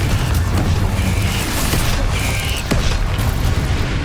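Explosive Confringo and Bombarda spells blasting in Hogwarts Legacy: dense, loud booming and rumbling impacts with sharp cracks, continuous through the fight amid game noise.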